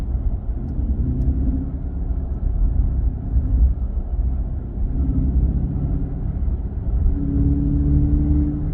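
Steady low engine rumble from inside a moving 2023 Chrysler 300C with a 6.4-liter HEMI V8, constant and fairly loud with slight swells, no talking.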